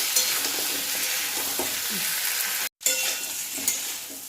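Turmeric stirred into frying oil in a pan while cooking elephant foot yam and prawns, a continuous bright sizzle with occasional scrape and stir noises close by, no talking.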